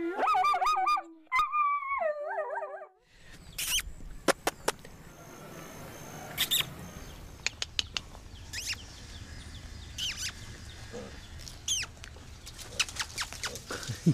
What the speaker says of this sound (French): Le chien chante.